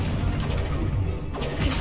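A fire spell cast during combat in the video game Hogwarts Legacy, giving a dense, booming burst that blends with a steady wash of game effects and rumble throughout.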